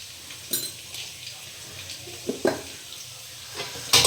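Masoor dal cooking in a handi is stirred, with soft scraping strokes at irregular intervals over a low simmering sizzle. The sound is close and fairly quiet, with no talk.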